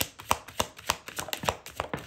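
Tarot cards being shuffled by hand, a series of crisp riffling snaps at a steady rhythm, close and fairly loud with no voices.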